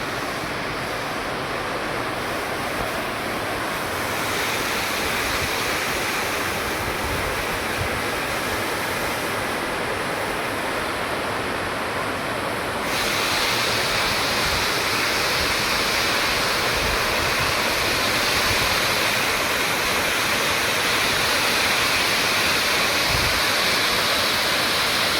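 Anjukuzhi waterfall near Erumeli pours steadily, a dense, unbroken roar of rushing water close by that fills the whole stretch with no voices.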